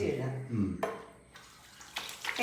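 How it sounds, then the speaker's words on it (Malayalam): Hands lathered with a drop of soap are rinsed under a running kitchen tap, with water splashing in bursts beside a voice. "ഒരു ഡ്രോപ്പ് എടുത്ത് തേച്ച് കഴുകാം കൈ"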